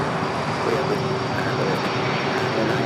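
A jet airliner landing at LAX, coming in fast with a loud, steady, broadband engine roar that holds evenly throughout, close and continuous.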